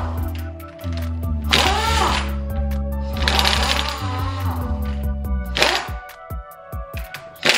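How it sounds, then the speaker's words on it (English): A power drill drives down a strut mount on a BMW E46, its motor whining close and loud in sustained bursts that shift in pitch as the fastener tightens. "So now I'm gonna go ahead and drill this down."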